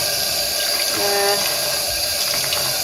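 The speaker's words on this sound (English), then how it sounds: "So I'm just going to keep rinsing this." Dyed cotton sock yarn rinsed under a running tap, a loud, steady rush and splash of water that never lets up.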